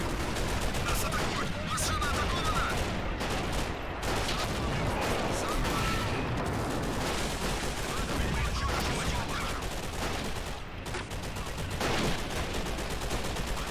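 Sustained battlefield barrage from the Army Men: Frontline Defence game, with dense overlapping booms and gunfire rolling without pause across the whole stretch, loud and continuous, with a voice faintly mixed into the din.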